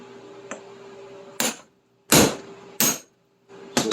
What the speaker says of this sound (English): we're just going to take a hammer and whack them out of there.